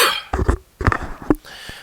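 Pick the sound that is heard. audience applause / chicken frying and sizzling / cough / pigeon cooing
cough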